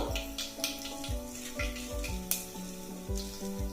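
About a spoonful of tempering seeds crackles and sizzles in two tablespoons of hot oil in a pot on the stove, a close, continuous fry with stirring scrapes recurring every half second or so.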